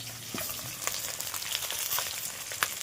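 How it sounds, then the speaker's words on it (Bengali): Heads of a one-kilogram catla fish fry in hot oil, producing a close, continuous crackling sizzle dotted with sharp pops and spatters and occasional clicks of a utensil, with no voices. "এই যে দেখো, মাছের মাথাগুলো আমি ভেজে নিচ্ছি।"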